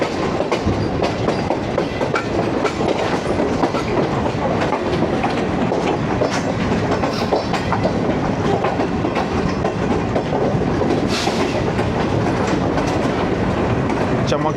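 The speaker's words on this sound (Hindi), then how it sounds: "अभी ये सामने जो लोकोमोटिव जा रहा था आई थिंक उसी के लिए था वो।" A passenger train on a branch line near Lala Musa Junction in Pakistan rolls past with a loud, steady rumble and rhythmic clickety-clack of wheels on rail joints, with faint voices in the background.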